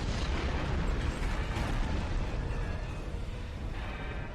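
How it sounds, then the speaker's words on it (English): Detonated charges explode in the Star Trek Online game, a loud, dense rumbling blast that fills the whole stretch and slowly eases off without dying away. "Detonating charges!"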